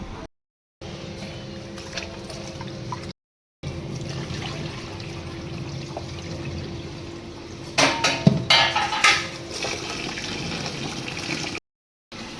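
Water splashing and swishing in a container as rice is rinsed by hand, with a brief burst of louder sloshing near the end.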